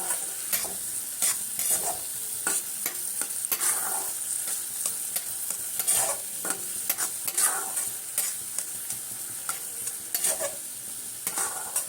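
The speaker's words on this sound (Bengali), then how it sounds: "আমি কিন্তু গ্যাস সিমে দিয়ে তৈরি করছি পুরটাকে" Moong dal kachori filling stirred and fried in a pan over a gas flame, with a steady bright sizzle and repeated scraping strokes of the spoon at an irregular rhythm, close and loud throughout.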